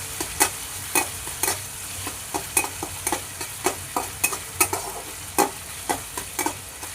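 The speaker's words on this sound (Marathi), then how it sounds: "हे दोन्ही चांगलं आपण मिक्स करून घेऊया। कमी गॅसवर भाजून घेऊया।" Chopped green chillies and samosa filling being stir-fried on low heat, with a rhythmic run of sharp spatula scrapes and taps against the pan, roughly two per second, over a low steady sizzle.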